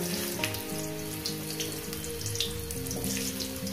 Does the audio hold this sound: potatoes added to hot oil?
yes